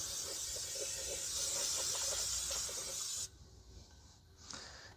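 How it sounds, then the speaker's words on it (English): Fluid Film lubricant sprayed from an aerosol can onto a 2011 Kia Forte 5 subframe, a steady loud hiss lasting about three seconds, cutting off abruptly, then a short weaker spurt. "You spray a little bit of the fluid film stuff."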